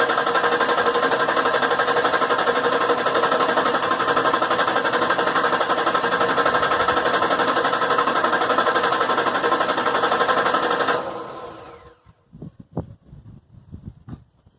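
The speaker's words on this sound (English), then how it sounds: "we're just going to crank the engine for no longer than 15 seconds" A 2007 Mazda B3000 engine cranks on its starter, a steady churning drone that runs unbroken for about eleven seconds, then cuts off into near silence broken by a few faint clicks and taps.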